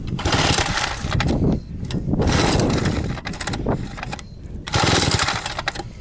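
A KUMIR walk-behind tractor engine starting and firing in uneven bursts, loud and close, with rough clattering surges separated by brief dips.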